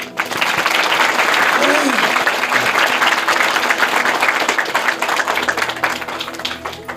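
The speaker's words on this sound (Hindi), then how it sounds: "ताली बजाएं।" A church congregation claps together in a dense, sustained burst that fills the room, with a voice briefly rising over it before the clapping thins slightly toward the end.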